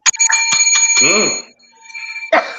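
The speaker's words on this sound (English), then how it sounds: "Why you ring the bell?" A doorbell chimes close and clear, ringing a two-tone electronic melody with a brief voice in between, then starting again.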